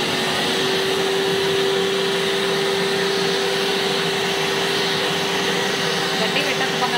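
A Eureka Forbes wet and dry vacuum cleaner runs with a loud, steady, close whine and a constant tonal hum, and voices talk beneath the motor noise.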